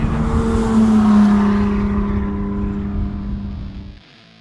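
A turbocharged 400 hp BMW E30 drives past with a loud engine roar that holds steady and then fades away sharply near the end, with no voices.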